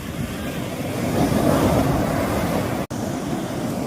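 Surf rolling onto the sea shore at Hirawada near a river mouth, a broad steady roar with wind buffeting the microphone and a brief dropout near the end.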